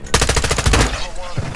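Rapid burst of gunfire in Call of Duty DMZ, loud and close, a fast string of sharp shots followed by a trailing echo and a final thud.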